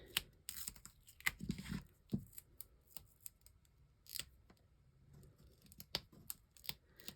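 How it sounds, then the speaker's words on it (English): Scissors snip paper while a Valentine's Day shaker card is being made, a scattered run of quick, crisp, close cuts with small rustles and pauses between them. "So I'm going to snip it and stick it right there."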